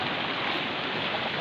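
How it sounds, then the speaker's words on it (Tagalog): Strong sea waves strike the walls at a Pangasinan beach resort in the morning, a dense, unbroken wash of surf roar, loud and close, with no voices. "Grabe yung mga hampas po ng alon dito sa mga pader po"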